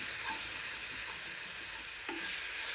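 Onions fry in a little oil for chicken bhuna, a steady close hiss and crackle with a faint scrape of stirring near the end and no voices.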